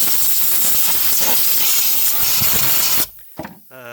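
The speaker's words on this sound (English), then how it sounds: "This blows most of the dust off." A shop air compressor nozzle blasts a loud, steady broadband hiss of air to blow dust off salvaged parts, lasting about three seconds before cutting off abruptly, followed by brief faint clicks and a short low tone.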